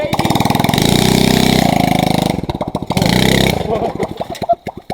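A cheap pit bike engine revs hard in repeated bursts, the pitch climbing and dropping with a choppy, popping idle between pulls, loud and close, with people talking nearby.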